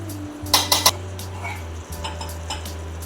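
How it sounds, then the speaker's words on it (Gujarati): Garlic chutney being stirred into ridge gourd in a pan, with a spatula scraping and clinking against the metal in a quick cluster of strokes, then softer occasional scrapes over a steady low hum. "જો આ લસણની ચટણી નાખી દીધી, તો મિક્સ કરી લઈએ"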